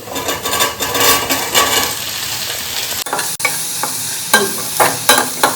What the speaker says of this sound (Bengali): যখনই তুমি সতে করবে কালিফ্লাওয়ার